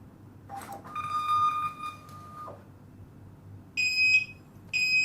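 A shrill electronic beep from a SATO CL4NX label printer alarm sounds once at length, then two short high-pitched alarm beeps follow after a pause, over a low hum.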